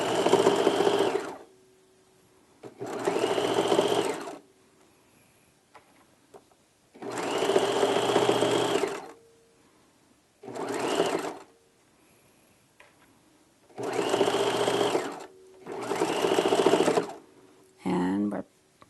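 A sewing machine stitching a drawstring backpack runs in six loud, steady bursts of a few seconds each, separated by quiet pauses, with a short rattling sound at the end.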